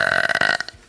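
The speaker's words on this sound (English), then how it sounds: "I can't stop burping." A single loud, close burp with a buzzy, voiced rumble lasting under a second before trailing off.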